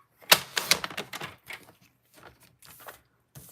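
Scissors cut scraps of paper for card crafting: a few close, crisp snips, loudest at the start and then trailing off into softer, sparser cuts.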